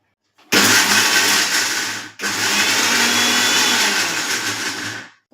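A kitchen mixer grinder blends farali green chutney ingredients in two loud, close bursts of whirring motor with a short stop between them, and no talk.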